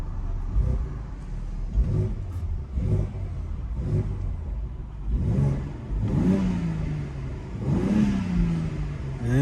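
BMW X3M Competition engine revved repeatedly soon after a cold start, a series of sharp rising blips that grow longer and louder toward the end, heard close with no talk.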